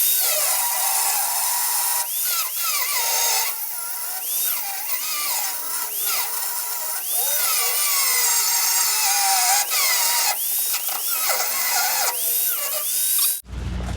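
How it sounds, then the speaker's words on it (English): A power tool cuts steadily through the head of a seized bolt on a 1976 Ford F150 rear suspension, a loud, close, continuous metallic whine that wavers with pressure and stops abruptly at the end. "I think we're going to cut the head off right here"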